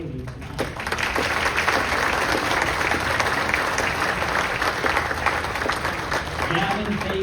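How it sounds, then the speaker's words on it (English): Audience applauding the McPherson College Saxophone Ensemble at an evening recognition ceremony; steady, dense clapping from a large crowd sustained for several seconds. "Let's start the recognition with a round of applause for our students from the McPherson College Saxophone Ensemble"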